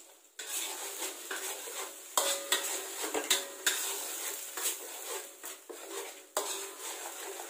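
Metal utensils scrape and clatter against a pan over a steady sizzle, with irregular clanks of stirring throughout, as vegetables are stir-fried.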